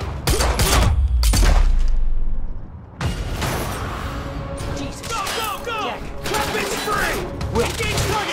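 Gunfire in the Quantum Break video game: a heavy burst of rapid shots and booms, then a lull and scattered further shots with mechanical clatter, while characters shout over the fighting.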